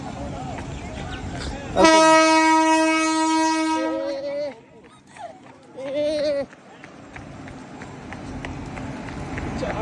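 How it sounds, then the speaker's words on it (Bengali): A train pulls into a station and sounds a loud, sustained horn blast for about two seconds, then a shorter tone, over a background rumble of the station with people talking nearby. "ট্রেন ঢুকে গেছে"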